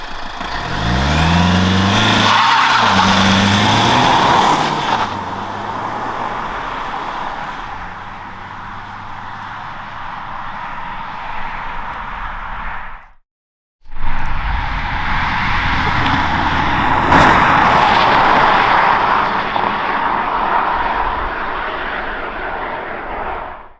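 A modified Toyota Auris SR180 diesel with a remap drives past loudly, its engine rising and falling with broadband roar and turbo noise, a brief silent cut midway before the engine noise resumes.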